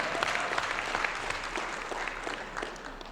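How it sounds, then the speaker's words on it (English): A round of applause rises from the audience at a talk on law firm finances, dense even clapping sustained for several seconds at moderate distance, fading slightly toward the end, with no voices over it. "let me hear a round of applause if you can give with that."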